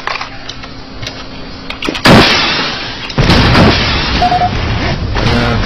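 A rocket launcher fires and its rockets explode in a Chinese online shooter, Final Combat, loud booming blasts cutting in over steady background gunfire and game noise.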